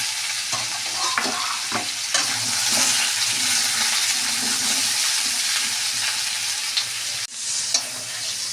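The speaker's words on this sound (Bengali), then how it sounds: "কুমড়ো কাটা একটু ভেজে নেব।" Cut pumpkin pieces sizzling steadily in hot oil in a pan for a home-style khichuri, with repeated scraping and clattering stirs of a spatula throughout and no talk.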